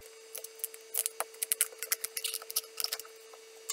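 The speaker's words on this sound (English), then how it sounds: "you're gonna just kind of cut as best as you can through that tough skin" A knife saws through the tough skin of a squash, giving a run of close, dry scraping and crunching strokes with irregular rhythm, alone and fairly faint against a steady background hum.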